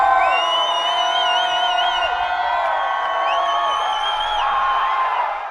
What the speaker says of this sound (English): A cheer. Let's do a cheer.